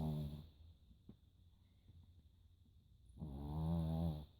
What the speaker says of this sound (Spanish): No deja dormir con su ronquido.